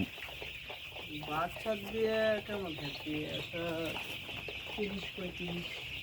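Chickens on a poultry farm of fourteen hundred birds cluck and call in a steady chorus of short, pitched vocalizations, with a voice talking over them.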